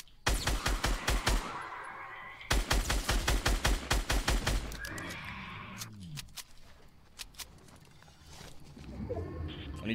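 Gunfire rattles through a solo-versus-squads shootout in a battle royale video game, with loud rapid bursts of shots early on, then scattered cracks and softer distant fire.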